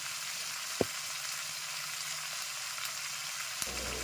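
Vegetables fry in a pan with salt and chilli powder, a dense, even sizzle held steady throughout, with a couple of brief knocks from the pan or spoon.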